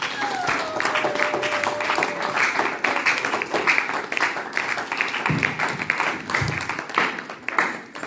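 A church congregation applauds and cheers in a steady, dense wash of clapping that runs throughout, with voices mixed in and a brief sung or called tone near the start.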